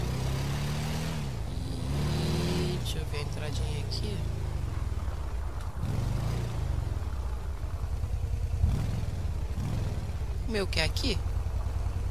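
Motorcycle engine in GTA V Online, a continuous droning engine note with rises and falls in revs and some clatter, under someone talking throughout.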